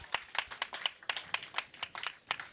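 Crowd applauding at a high school boys' bowling match on senior night: a fairly faint patter of clapping hands, irregular and sustained, heard at a distance in a large hall.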